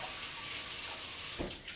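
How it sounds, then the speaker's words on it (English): Tap water runs steadily over salad greens being washed in a sink for a bearded dragon's meal, a continuous close hiss of flowing water with a brief splash near the end. "you want to make sure that you really wash these really well"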